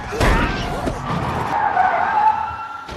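Car skidding with tire squeal before hitting a horse in the middle of the road in a film scene, a short loud screech with a thump, partly under a narrating voice.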